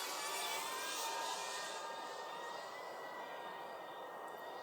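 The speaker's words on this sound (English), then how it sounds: "I'm going to do a little bit of a flyby this way." A DJI Avata 2 drone flies past over Vassar Meadows, a faint, steady high-pitched whine whose tone slides gradually as it passes and fades.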